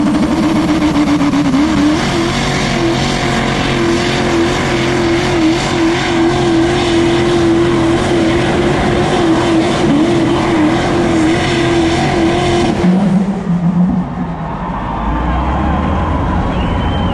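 A truck engine roars loudly and steadily at a run-what-you-brung truck race at a county fair in Meadville, Pennsylvania, then drops off sharply near the end, with crowd and announcer voices mixed in.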